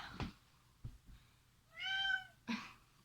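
Small kitten indoors giving one clear, close meow, surrounded by a few soft rustles and taps in an otherwise quiet room.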